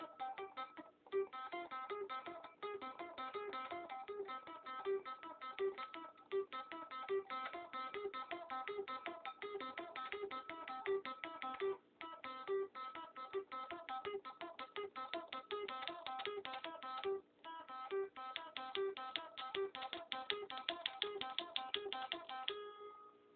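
An unamplified electric guitar plays a fast riff, a steady stream of rapid, thin, plucked notes repeated for over twenty seconds, quiet and close with no voice.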